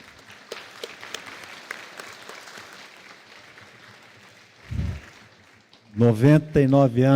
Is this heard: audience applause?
yes